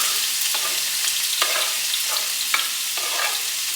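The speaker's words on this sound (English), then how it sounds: "Then I go ahead and slide in my peppers as well as my onions." Sliced peppers and onions sizzle as they slide into a pan of minced garlic for homemade spaghetti meat sauce, a bright continuous hiss broken by several soft clatters as pieces drop in.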